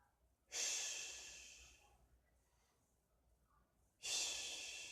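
Two strong, breathy inhalations during a diaphragmatic breathing demonstration, each rising sharply then tapering, separated by a quiet pause with faint exhalation.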